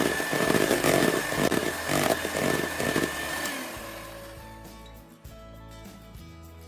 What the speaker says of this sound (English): give it a very slight whisk with the electric beater